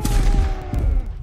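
A musket volley at a Waterloo battle reenactment cracks out as a loud, close burst of overlapping shots, followed by a few scattered reports as the echo rings and fades.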